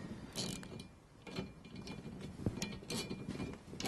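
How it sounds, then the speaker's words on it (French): Small ratchet with a 10 mm socket loosening a bolt on a Renault Scénic 2 dCi during an air filter change, giving several quiet, irregular mechanical clicks and scrapes close to the microphone with no talk. "À l'aide d'un petit cliquet avec une douille de 10,"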